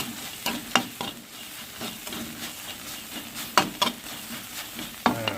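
June beetles are stir-roasted in a pan, a steady dry sizzle broken by repeated scraping and rattling clatters as they are tossed and stirred.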